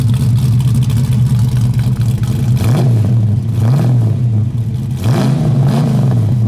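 A 1968 Ford Mustang coupe's V8 with a cam rumbles at a loud, lumpy idle, broken by three short throttle blips that rise and fall, close to the car.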